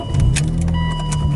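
A BMW Z3 M Coupe with the S54 engine runs near and loud, a steady low engine drone throughout with faint mechanical clicks above it.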